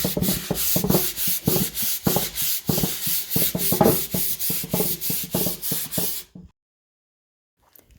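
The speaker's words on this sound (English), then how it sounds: "I'm going to give it a sanding, just a light sanding" Rhythmic back-and-forth rubbing of sandpaper on a wooden table, light hand sanding in steady strokes for about six seconds before stopping into silence.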